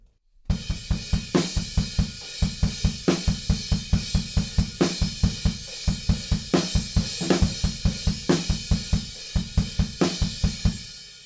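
A rock drum kit plays the chorus beat of a song, driving steady eighth-note kicks under snare hits on two and four, with crash cymbals marking each bar, loud, close and alone.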